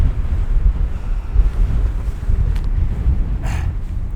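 Steady wind buffets the microphone outdoors in snowy, rainy weather near a valley knob, a continuous low roar with no speech.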